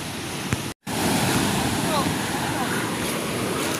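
Large sea waves wash and surge against a coast in steady broadband noise, with wind buffeting the microphone and a brief dropout near the start.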